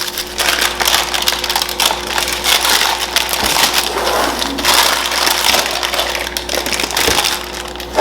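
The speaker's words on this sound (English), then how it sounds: "I'm just going to go ahead and cut them into little bars." Knife slicing through no-bake PB&J granola bars, producing a dense, continuous crunching and crackling of oats close up over a steady low hum, with a few sharper cracks.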